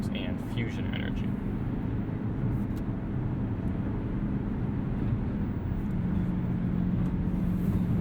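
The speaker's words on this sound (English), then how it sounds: "The motor doesn't sound good when it's running. It doesn't sound cool by any means. It's a little bit drony" A 2020 Ford Escape Hybrid's engine drones low and steady from inside the cabin on a night drive, a constant hum with road noise that barely changes throughout.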